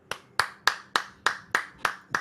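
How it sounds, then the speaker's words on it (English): Sharp, evenly spaced hand claps ring out at a comedy talk show as a guest is welcomed, eight crisp claps in a steady rhythm with no talking. "Everybody give a warm round of applause for your friend and mine, Lawn Burgundy"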